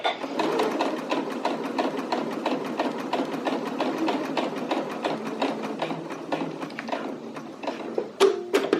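A sewing machine stitches bias tape facing onto a garment in a fast, steady run of needle strokes that slows and stops near the end, ending with a couple of sharp clicks.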